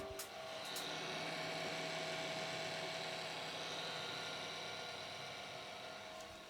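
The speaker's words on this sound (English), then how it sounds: "I think I need a new sous vide machine. My one is limping to the finish line." A failing sous vide machine runs with an odd, steady whining hum and a buzzy tonal drone, quiet and continuous throughout with no talking.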